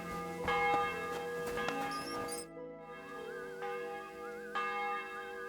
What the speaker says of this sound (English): The bell's ringing for Hans the 5th time.